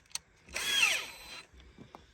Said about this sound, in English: drill your holes out